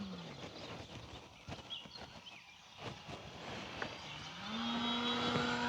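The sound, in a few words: E-flite P-51D Mustang RC plane engine flying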